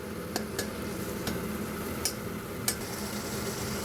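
Tomato and chili go into ground coriander frying in oil, making a steady low sizzle with a few sharp crackles and ticks scattered through it, close by and without voices.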